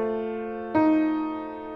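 A short harmonic progression measure played on a keyboard instrument: a held chord, then a second chord struck sharply partway through and left to ring and fade, clear and alone without talk.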